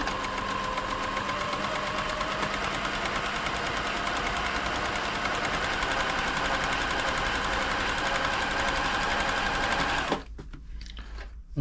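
A Silver/Pfaff 1139 sewing machine runs in one long, even, fast whirring stretch for about ten seconds, close up, then stops, leaving near silence with a faint click at the end.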